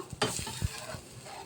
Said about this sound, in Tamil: இந்த சைட்லலாம் நல்லா அப்படியே பொங்கி வர மாதிரி கொதிக்கிறாங்க